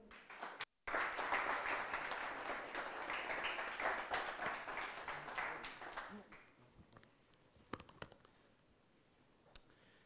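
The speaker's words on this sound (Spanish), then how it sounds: "Juan Manuel, un aplauso para él." Audience applause at a startup demo day in a coworking space in Talavera, sustained steady clapping from a room of people for about six seconds before thinning out to scattered claps.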